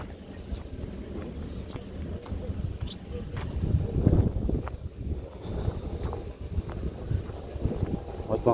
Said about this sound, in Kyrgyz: резко шамалдап баштады